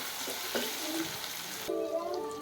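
Garlic and ginger frying in oil as tomatoes go in for egg biryani, a close sizzling hiss that suddenly drops in intensity, leaving a softer sizzle and stirring.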